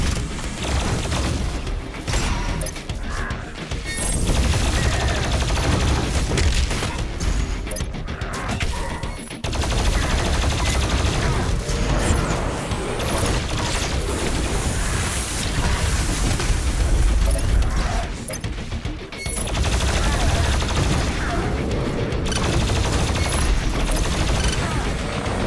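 Repeated booming cannon shots in Doom Eternal: The Ancient Gods, heavy and loud, firing in bursts over a dense wash of battle noise and effects.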